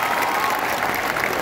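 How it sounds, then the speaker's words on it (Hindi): Loud, dense applause fills the space as an audience claps together for a young girl at an event, a steady roar of many hands with no pause. "एक बार इसके लिए जोरदार तालियां हो जाए, ऑल टुगेदर।"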